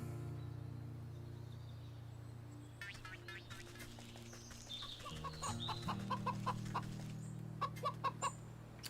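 A pheasant in the video game Wytchwood clucks like a chicken, a run of short clucks and squawks over a steady low musical drone, rising into louder bursts near the end, with no talk.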